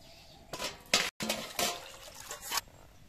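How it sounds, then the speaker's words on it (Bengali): Water being poured into a wok to boil taro, several short splashing bursts with brief pauses between them, close and fairly quiet, with no speech. "কচু সিদ্ধ করব, তার জন্য কড়াইতে জল দিয়ে দিচ্ছি।"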